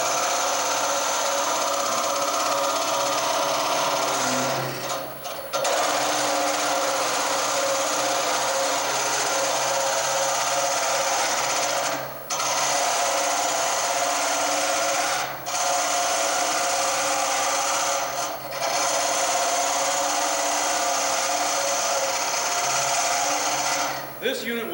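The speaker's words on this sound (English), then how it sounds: "Now I'm using a 1/4 inch tool steel metal lathe tool bit that's been rounded out to a scraper for the" A wood lathe hollowing a piece with a rounded quarter-inch tool-steel scraper bit, a loud continuous whirring scrape with a few brief dips as the cut pauses, steady throughout and close.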